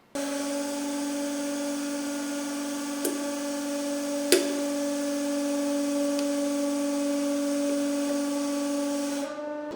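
A 150-ton hydraulic press forces a knife into hardened steel, producing a steady high-pitched hydraulic whine and hiss with two sharp metallic cracks partway through.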